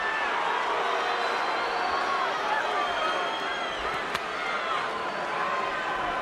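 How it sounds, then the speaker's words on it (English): Large boxing arena crowd at a Calzaghe–Jones Jr fight, a steady loud roar of many voices that fits booing, sustained without a break and with a brief sharp knock near the end. "I don't know why they're booing."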